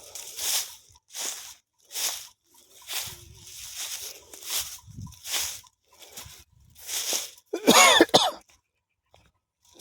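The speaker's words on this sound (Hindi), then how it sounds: "खांसी भी आ रही है बीच बीच में।" A person with a cold coughs about nine times in short, separate bursts roughly a second apart, close and fairly loud, ending in a harsher throat-clearing cough.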